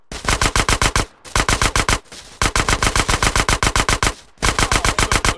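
Loud, rapid automatic gunfire from the video game GTA San Andreas hammers out in four long sustained bursts separated by brief pauses, close and with no talking.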